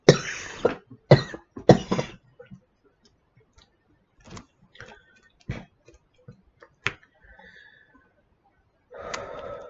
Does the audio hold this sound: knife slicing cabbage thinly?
no